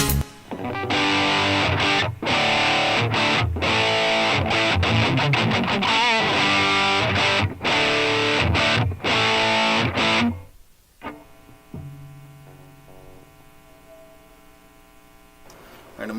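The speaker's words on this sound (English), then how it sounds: "a little wall of sound. So that's what we had today. The Hurdy Riot distortion pedal." A Hurdy Riot distortion pedal pushes a hurdy-gurdy into a dense, buzzing wall of sound for about ten seconds, with brief choppy breaks, before cutting off and leaving a low hum and faint handling noises.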